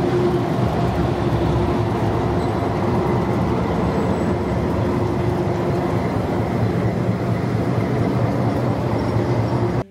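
Two trains shunting on railway tracks near Shalimar station, with a loud, continuous low rumble and steady engine drone close by, unbroken throughout.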